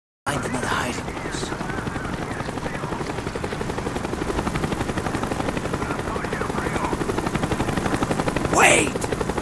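A helicopter in Call of Duty Black Ops thrums with a steady rapid rotor beat throughout, loud and continuous, with a couple of brief sharp bursts over it.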